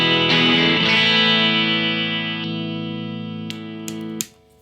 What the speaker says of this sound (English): next we've got the 70s Jaguar. And it sounds like this, clean.